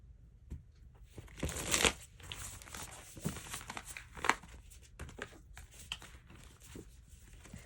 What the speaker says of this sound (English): So I'm going to give this one more quick shuffle.